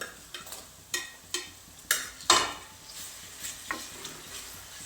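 Tomatoes stir-fried with ginger paste for paneer bhurji, a spoon scraping and knocking the pan in a few sharp strokes over a faint sizzle, close and fairly quiet, no talk.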